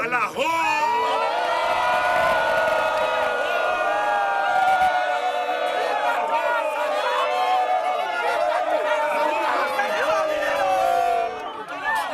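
A large crowd at a street protest march shouts and chants loudly and continuously, voices merging into a dense, sustained roar with whoops rising above the mass.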